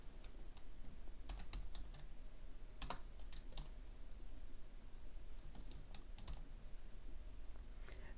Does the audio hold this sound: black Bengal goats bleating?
no